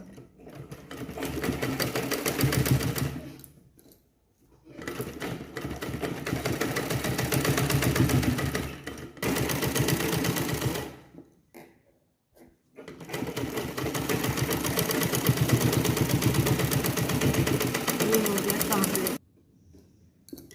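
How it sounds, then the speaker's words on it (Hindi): Close, loud whirring of a sewing machine stitching a blouse collar for strength, in several sustained runs broken by short pauses, with speech drifting over parts of it. "तो इसका मजबूती के लिए हम इसमें सिलाई मार देंगे"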